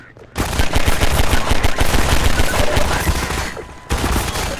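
Sustained automatic machine-gun fire in the Half-Life 2 video game, a loud, dense rattle of rapid shots that runs for several seconds, breaks off briefly, then resumes.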